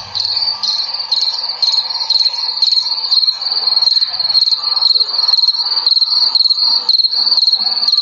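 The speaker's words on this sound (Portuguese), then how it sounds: "Olha o barulho do grilo." Steady, pulsing cricket chirps repeat rapidly and continuously throughout, loud and close, with no other sounds.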